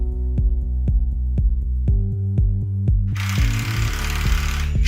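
An impact tool tightens and shears lug bolts on a cable conductor for a 3M cold-shrink silicone rubber termination, a close, regular burst of rapid hammering clicks that turns into a loud, dense rattle near the end.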